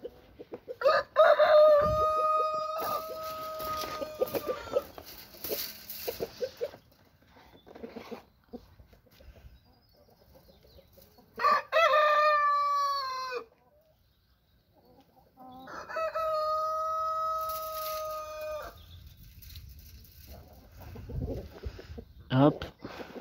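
Brahma chickens cluck and a rooster crows repeatedly in a henhouse during egg collection, loud and close, with several long crowing calls separated by quieter clucking and rustling.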